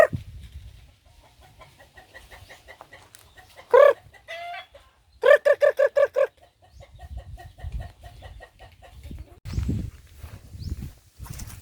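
Chickens cluck in short bursts, with a loud rapid run of clucks midway, over faint low rumbling and occasional rustling nearby.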